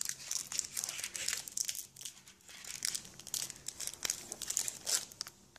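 Foil wrapper of a Pokémon Call of Legends booster pack crinkling and tearing as it is carefully opened by hand, close and continuous with sharp rustling bursts throughout.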